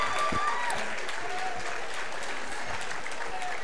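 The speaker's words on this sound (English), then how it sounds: "We worked hard, so we deserve the applause" Crowd applause at a fight night event, a steady wash of clapping and cheering from a large audience that runs the whole time, with faint voices and a commentator mixed underneath.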